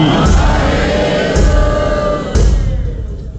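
A congregation loudly shouts the Sikh jaikara in unison at Gurdwara Shaheedganj Sahib during the dawn ardas, three swelling bursts of massed voices over steady crowd noise.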